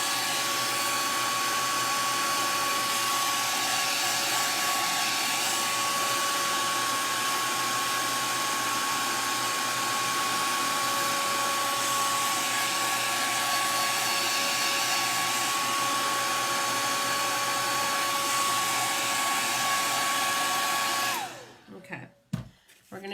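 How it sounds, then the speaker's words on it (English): A blow dryer runs loudly and steadily for about twenty seconds with a constant whine, then cuts off abruptly near the end. "I'm going to hit this with the blow dryer."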